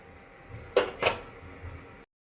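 Cooked ridge gourd and arhar dal poured from a wok into a bowl, with two distinct metallic clanks of the pan against the bowl rim amid soft handling sounds, close and fairly quiet.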